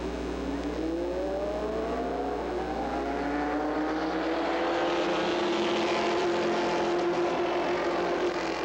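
Late model race cars racing at Peach State Speedway in Jefferson, Georgia, a continuous loud drone of engines with overlapping pitch sweeps as cars roar past, steady and distant-to-near throughout.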